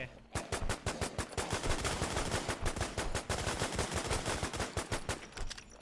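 VSS rifle fires at a boss in the WarZ survival video game, a rapid, continuous stream of loud, close automatic shots with a steady rhythm across the whole span.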